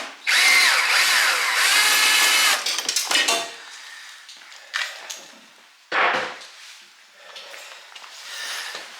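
A power driver backs a Phillips screw out of a snow blower carburetor, whirring loudly for about two seconds, then stopping and restarting in shorter bursts with clicks and handling noise between, close up.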